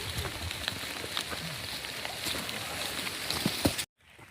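Rain patters on a muddy, rocky hiking trail at Pinnacle Mountain State Park, Arkansas, during a long march. Steady hiss with scattered drop ticks, then an abrupt cut to near silence.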